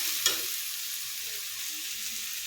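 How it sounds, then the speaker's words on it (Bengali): Spices fry in a pan after a splash of water is added, giving a loud, continuous close-up sizzle with one brief stirring knock near the start. "একটু জল দেবো যাতে মশলাটা পুড়ে না যায়"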